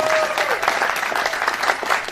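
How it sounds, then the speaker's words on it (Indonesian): Crowd of followers at an Indonesian religious lecture clapping loudly and continuously, a dense close patter of many hands lasting about two seconds with a brief tone at the start. "Ini maksudnya apa tepuk tangan begini?"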